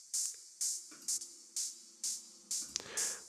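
A percussion loop run through Pro-Q2 EQ with the low end and top end cut sounds thin and bright: about seven evenly spaced hits in a steady rhythm, close and moderately loud, with no voice.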